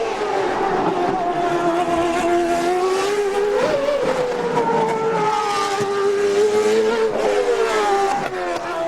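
An 800 horsepower CART Champ car races around the Miami street circuit during 2002 Grand Prix Americas qualifying. Its engine screams loud and close, rising and falling in pitch through acceleration and gear changes over several seconds.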